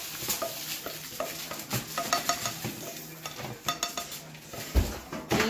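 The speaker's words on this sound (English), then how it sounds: "Now we're gonna add in our sauteed veggies." Sautéed vegetables are stirred into a pan of chicken quesadilla filling: close scraping and stirring, utensil clinks against the pan and a soft sizzle come in quick irregular bursts, with no talking.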